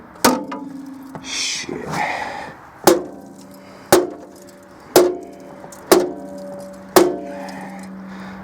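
A hammer strikes cast aluminum scrap metal at a recycling center, delivering about six sharp metallic impacts roughly one second apart, close and loud, with a brief muttered word early on.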